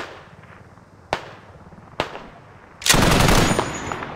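Gunfire in a video game: a few isolated sharp shots at steady intervals, then a loud sustained burst of rapid automatic fire close by, with no talking.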